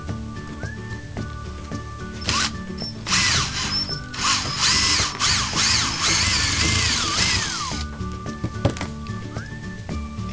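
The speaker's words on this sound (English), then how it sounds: "it requires a 1/4-inch drill. And this is just a guide block so that I drill my hole straight." A 1/4-inch drill bores a hole through a guide block while repairing stripped threads, whining loudly in a sustained run of several seconds with brief starts and stops, close up and alone.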